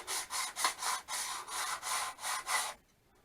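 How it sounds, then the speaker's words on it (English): Sandpaper of 240 grit is rubbed back and forth along a glass-cloth-covered tail part of an RC model jet, giving about nine even, close, scratchy strokes in a steady rhythm before stopping. "So now all you need is that's 240 grit sandpaper, and then just run that along there"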